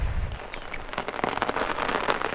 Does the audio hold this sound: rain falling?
yes